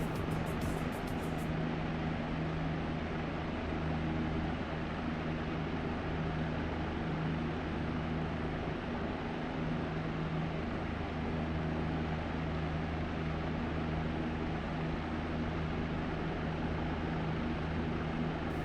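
A Bell OH-58D Kiowa Warrior helicopter in DCS World produces a loud, steady engine and rotor drone with a dense, continuous roar that holds evenly throughout.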